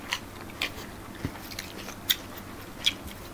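Stir-fried squid with shrimp paste being chewed close to the mic, soft wet crunches and bites repeating at irregular intervals over a low steady background hiss.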